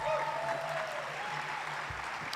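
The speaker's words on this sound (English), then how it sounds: "That should get a round of applause." A crowd applauds steadily, a continuous patter of clapping at moderate distance, with a faint voice briefly audible beneath it.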